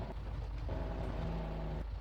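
A Kenworth truck rumbles over bumpy ground in Farming Simulator 22, a steady low engine drone with a sustained tonal hum, close and continuous throughout, with no talking.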